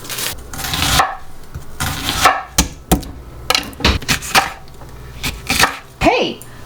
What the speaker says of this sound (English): I am just gonna slice up some onions and some garlic and jalapenos